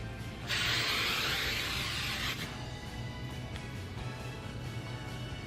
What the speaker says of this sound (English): now I'm gonna grab my hairspray again, and this time I'm really gonna move the hair as I'm spraying it